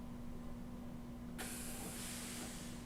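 A clothes iron releases a short burst of steam while fusing wool appliqué, with a sharp hiss starting partway through and continuing steadily over a constant low hum.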